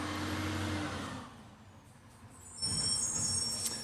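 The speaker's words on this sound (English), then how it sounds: "Wait for the garbage truck to go by." A garbage truck rumbles past nearby, its broad engine and road noise swelling, dipping briefly, then rising again with a high whine or brake hiss toward the end.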